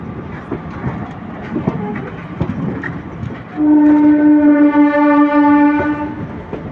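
A fast SMVT express passenger train runs on the rails: a rumbling, rattling wheel noise, then a loud, long horn blast that holds for about three seconds near the end.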